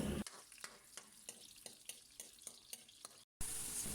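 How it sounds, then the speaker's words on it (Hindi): Onions fry steadily in oil in a pan with repeated stirring scrapes, loud and close, followed by a brief silence and then a hiss. "इसमें प्याज को अच्छा सा कलर आने तक हमने फ्राई करना है"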